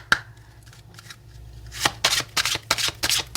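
Oracle cards being shuffled by hand, a quiet soft rustle at first, then a run of crisp, close riffling bursts in quick succession.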